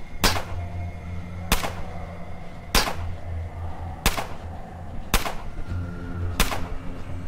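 Gunshots in Underrail, six evenly spaced sharp cracks about a second apart over a low steady hum, loud and close, with no talking.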